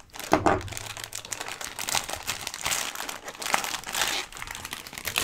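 Plastic packaging from Final Fantasy VII Remake Trading Arts figures is crumpled and crinkled nonstop for several seconds. The crackling is close and fairly loud, swelling and easing, with no one talking.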